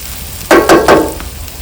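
Egg frying in a pan for egg rice, three quick, loud scraping strokes over a steady close sizzle.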